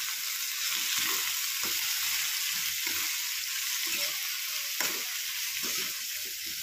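Eggplant (brinjal) curry with salt and chilli is stirred in a pan, giving a steady broadband frying sizzle with soft scraping strokes of the spoon at irregular intervals, close and alone with no voices.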